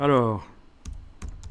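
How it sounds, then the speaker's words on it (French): Computer keyboard typing a search entry, a few short clustered keystroke bursts following a brief spoken word. "si je tape crocodile texture"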